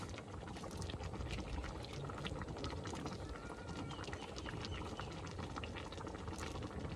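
Ginisang monggo, a Filipino mung bean stew, simmers in a pot with a steady, dense bubbling and hissing that runs without a break, close and fairly quiet, with no talking over it.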